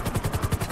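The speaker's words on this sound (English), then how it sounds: "We ain't going nowhere with that chopper on us." A helicopter in the video game GTA 5 hovers nearby, its rotor giving a fast, steady, loud chopping thump.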